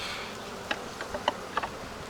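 Honeybees at the main hive of a first swarm, a faint buzzing hum with several brief close wingbeat passes.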